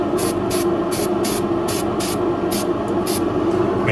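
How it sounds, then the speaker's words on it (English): Spray paint hisses out of an aerosol can in about nine quick, short bursts with a steady rhythm, misting a cardboard box fitted with aluminum window screen. The bursts are loud and close over a constant background hum. "I like making very quick, short sprays back and forth just to get everything kind of a light mist"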